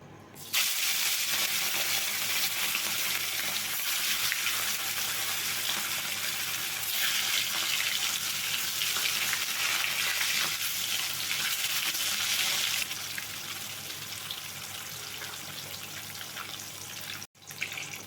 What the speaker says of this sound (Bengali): মাছগুলো উল্টে পাল্টে ভালোভাবে ভেজে নিয়েছি আমি